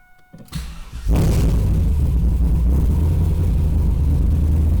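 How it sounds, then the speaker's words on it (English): Pontiac Trans Am with an LS1 V8 cranking briefly after a quiet moment, then firing up into a loud, steady rumbling idle that continues close by with no talking. "inside the car, we're going to go ahead and start her up"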